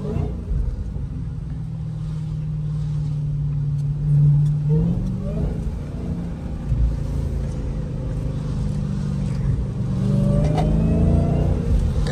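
A Hellcat car engine hums and rumbles close by, its pitch rising under acceleration, dropping at a downshift, then revving up again, with voices in between.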